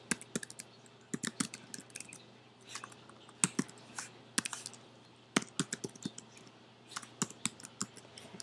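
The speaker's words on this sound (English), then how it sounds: "You're going to type in their first name and their last name and their email address." Typing on a computer keyboard: irregular bursts of crisp key clicks and taps, close and fairly quiet, with short pauses between runs of keystrokes and no talk.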